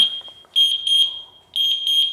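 An outboard engine's water-in-fuel warning alarm on the starboard motor sounds as a loud, piercing electronic tone in repeated paired beeps, with a steady lower tone between bursts and no talking.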